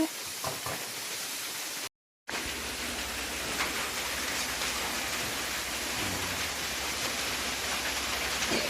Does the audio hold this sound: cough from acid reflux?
no